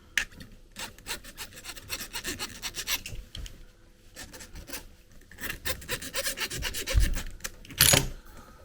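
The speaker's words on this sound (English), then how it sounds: "I had to file it slightly. Just take the sharp edges off." Close-up metal file rasping the sharp edges off a coax connector on old wet coaxial cable, a run of quick repeated scraping strokes that pause briefly and then resume, ending in a louder burst of strokes.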